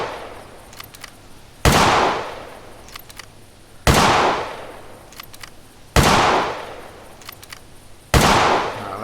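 Four 7x64 bolt action rifle shots in the hunting game theHunter classic, each a sharp loud crack with a long decaying echo, evenly spaced about two seconds apart.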